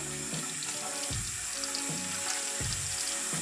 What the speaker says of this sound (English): Run it under the water really quick.